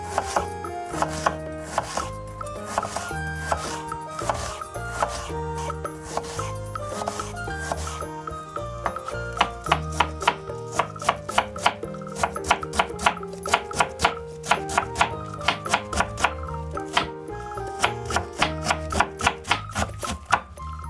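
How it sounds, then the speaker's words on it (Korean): Knife blade chopping a pear into thin julienne strips on a cutting board, a long run of quick, close, crisp rhythmic taps that speed up into a dense steady patter. "배를 얇게 채쳐줍니다"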